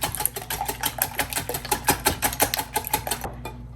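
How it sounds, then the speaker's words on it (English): Eggs with their yolks poked being beaten hard in a bowl for Italian sausage scrambled eggs, a quick steady clatter of whisk strokes against the bowl, close and continuous, then stopping abruptly near the end. "poke all the yolks because they will whisk up quicker"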